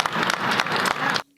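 An audience applauds after Justin Trudeau speaks about tariffs. Dense, steady clapping fills the room for over a second, then cuts off abruptly.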